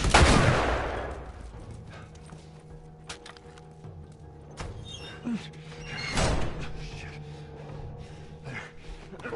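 Gunfire in The Last of Us, with one loud sharp shot opening the clip and another strong blast near the middle, each followed by a decaying tail over a low ambient game background.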